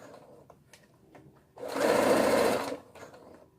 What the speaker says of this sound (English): So, trying to sew it down.